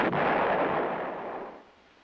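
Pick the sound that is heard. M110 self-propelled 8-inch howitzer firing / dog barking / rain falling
M110 self-propelled 8-inch howitzer firing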